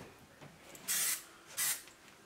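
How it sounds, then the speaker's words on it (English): Primer sprayed from a can onto a stained bedroom wall: two short, steady hissing bursts about half a second apart, close and moderately loud, with a quiet room in between. "What's that you're spraying, Hugo?"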